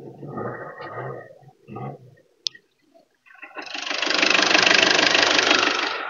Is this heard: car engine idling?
yes